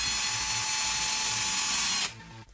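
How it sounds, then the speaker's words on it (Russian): A cordless screwdriver drives a self-tapping screw through a kitchen hook, giving a steady, close whirring drone for about two seconds before it cuts off abruptly, followed by a faint click. "Сейчас шуруповерт частично вкрутил саморез"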